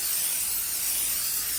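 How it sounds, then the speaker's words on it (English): An extra virgin olive oil spray gives a short, steady hiss as it coats a baking pan for cornbread. The spray is close and continuous, with no talking. "So let me just spray my pan."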